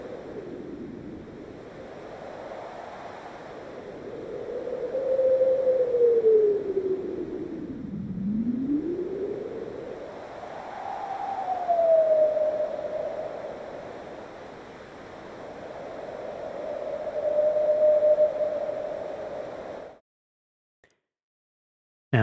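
Subtractive filtered noise from a synthesizer: a hiss whose filter sweeps slowly up and down, swelling and fading like surf. It plays alone for about twenty seconds, then stops abruptly.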